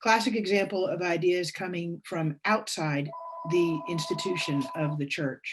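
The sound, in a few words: telephone ringing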